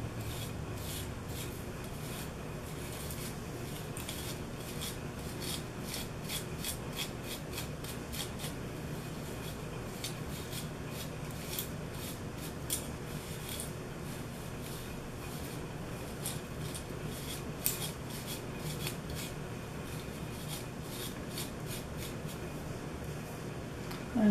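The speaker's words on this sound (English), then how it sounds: "I'm going to take my brush, comb out my ends really good" A hairbrush strokes repeatedly through the product-sprayed ends of hair, producing soft, close rasping and rubbing sounds in a steady rhythm for the whole stretch, with no talking.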